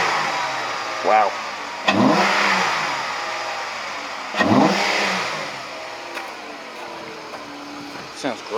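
Engine of a 2011-2015 Jeep Grand Cherokee with a K&N cold air intake, revved in two or three strong pulls that rise and fall over a steady idle, close and fairly loud, with brief voices in the background.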